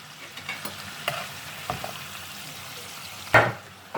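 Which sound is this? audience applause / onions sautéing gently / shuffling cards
onions sautéing gently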